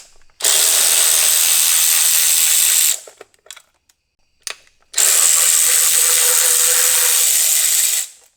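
Screws fastened on a 2016 Honda F6B motorcycle being stripped down, two loud, close bursts of a power driver whirring for about three seconds each, separated by a pause with small clicks.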